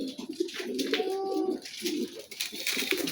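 Pigeons kept in pairs in a loft coo softly and close by, a few low rolling coos rising over a faint background rustle.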